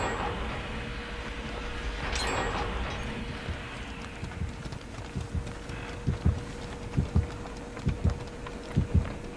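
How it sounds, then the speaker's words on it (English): The killer's heartbeat in the video game Dead by Daylight sounds as a low, muffled double thump that repeats steadily. It grows stronger and more distinct toward the end, over a faint background hum. "I can hear his heartbeat. He's getting closer."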